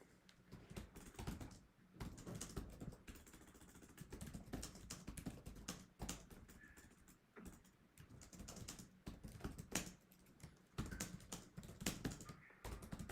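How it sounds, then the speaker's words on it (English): Answers typed on a computer keyboard, a quiet, close run of rapid clicking keystrokes in bursts with brief pauses between them, with no talking. "we are actually busy typing the answers"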